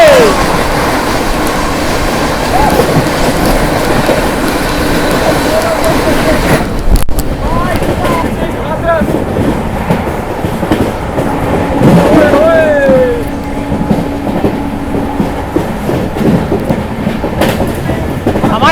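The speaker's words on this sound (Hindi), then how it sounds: "22426 आनंद विहार टर्मिनल अयोध्या वंदे भारत एक्सप्रेस हमारी अमृत भारत को जिंग मारने के लिए आ रही सामने से फ्लैट 130 पे।" The Anand Vihar Terminal–Ayodhya Vande Bharat Express (22426) rushes past the Gaya–Delhi Amrit Bharat Express at about 130 km/h: a loud, steady roar of wheels and wind with rail clatter and a sharp bang partway through.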